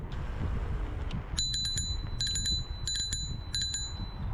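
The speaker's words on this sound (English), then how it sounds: "I like the bell on this. It's really nice and loud." A loud bell on a Rictor S9 electric scooter rings in four quick bursts of double dings, heard up close over steady outdoor background noise while riding in a park.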